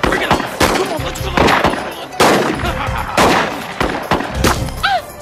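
Gunfire in a shootout, likely from a video game: repeated loud, close gunshots in irregular bursts, with voices shouting between the shots.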